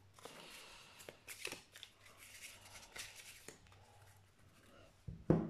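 Playing cards are drawn and laid out on a table to complete a spread, with soft scrapes, slides and light taps of card on card, close and quiet, ending in a brief louder rustle.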